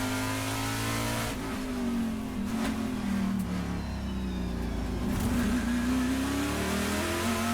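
Onboard a TA2 Trans Am race car at Laguna Seca, the engine drones loudly and continuously, pitch rising and falling through shifts and corner exits, with steady road and wind roar underneath.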